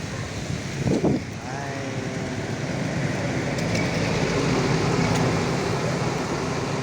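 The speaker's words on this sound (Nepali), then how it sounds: "एकदम हावाहुरी पो आयो गाइज।" A strong windstorm with rain roars across a roadside, steady gusty rushing and buffeting the microphone, with a brief louder gust early and constant noise throughout.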